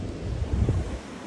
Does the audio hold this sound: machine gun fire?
no